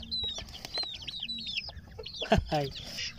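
Native chickens, including a hen and a rooster, cluck and chirp close by in quick, scattered bursts, with a sudden flutter or squawk partway through.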